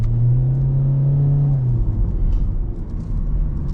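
A 2024 Hyundai Elantra SEL sedan driving on the road, with a steady, loud low engine drone and road rumble whose tone drops slightly partway through, continuing alone without talk.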